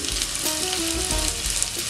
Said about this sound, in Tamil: இப்போ எண்ணெய் சூடானதும் நம்ம பொடி பொடியா கட் பண்ணி வச்சிருக்கிற பெரிய வெங்காயம் சேர்த்துக்கோங்க.